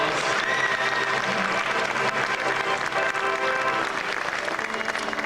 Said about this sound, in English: rousing applause.